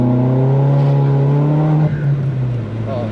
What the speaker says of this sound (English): Give them a little rev, let's see what they say.